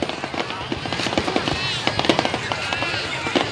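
New Year fireworks at a national tourist area on the fourth day of Tet 2019: dense crackling bursts and pops fill the air in quick irregular succession, with people talking in the background.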